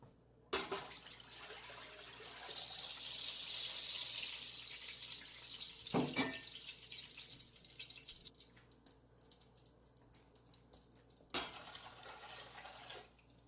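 Water runs steadily from a tap into a stock pot, a continuous splashing rush with a couple of clunks, tapering off toward the end.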